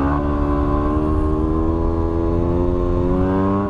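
A Yamaha WR250R dirt bike engine drones loud and close with a steady, buzzing note that dips slightly and then climbs again as the rider holds a wheelie on a desert road.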